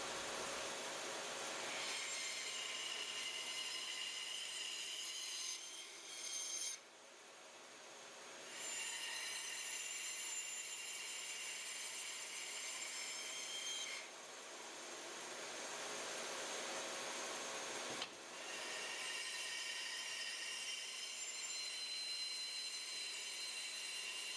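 A saw blade cutting wood while a painting stand is being built, heard as a continuous high, whining drone with brief dips as each cut pauses. The sound is steady and fairly close, with no talking.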